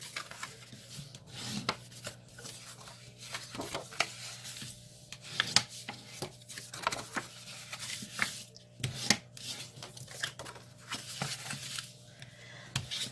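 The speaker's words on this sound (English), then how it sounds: "I'm going to use this bone folder, and I'm going to burnish these edges really good" A bone folder burnishes the edges of a paper card box, making a series of dry rubbing and scraping strokes in uneven bursts. The strokes are close and fairly quiet, with soft handling noises in between.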